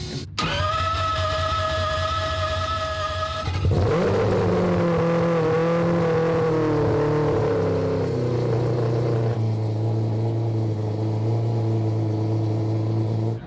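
An AWD four-rotor car engine idles with a steady mechanical whine, then cranks and settles into a loud, buzzy idle that shifts pitch and drops lower near the end.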